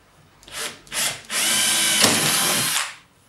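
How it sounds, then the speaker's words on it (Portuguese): Power drill boring into a wooden leg during a furniture restoration: two short bursts of the motor, then a longer sustained grinding drill run as the bit bites into the wood, close and loud, with no voices. "Então nós vamos furar aqui."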